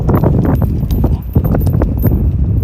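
A strong mare's hooves clip-clop in a steady, close rhythm during a riding training session. The loud footfalls are layered over constant background noise.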